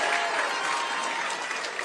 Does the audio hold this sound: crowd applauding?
yes